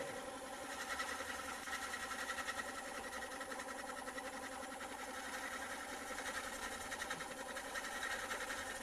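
A wood lathe fitted with a Vicmarc oval device turns at 320 RPM while a tool makes a fully beveled supported cut, giving a steady, faint mechanical whir with a fine rhythmic chatter throughout.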